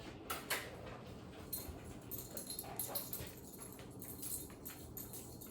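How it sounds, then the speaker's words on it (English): Dogs bark and yip in short bursts at a distance outdoors, faint and intermittent, with a whimper in between. "might hear my dogs barking."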